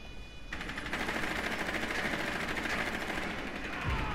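Zofia's rifle firing in Rainbow Six Siege: a steady, rapid automatic burst rattles on for several seconds, close and loud, with no talk over it.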